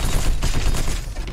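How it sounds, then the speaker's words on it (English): Dense, loud burst of gunfire from a shotgun in the Protocore shooter video game, with blasts packed together so they blur into one continuous roar. "that one shotgun blast didn't kill you, really"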